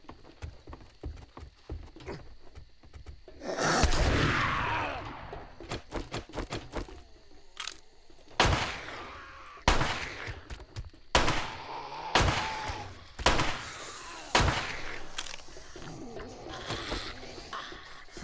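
Gunfire in the video game 7 Days to Die during a night mission, sharp separate shots in an irregular series, a burst near the start and then spaced single cracks, loud and close with no talk.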